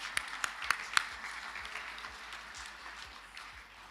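Audience applause at the 5th State of the ARTA Address, opening with a few sharp distinct claps and then settling into a continuous moderate patter of a crowd clapping together.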